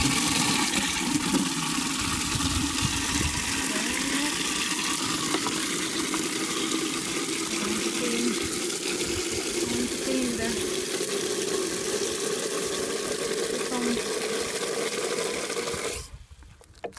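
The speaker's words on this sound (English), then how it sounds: "Get this bucket and then put water." Water from a tap pours into a bucket at a cemetery, a steady rushing, splashing stream that runs for about sixteen seconds before cutting off abruptly.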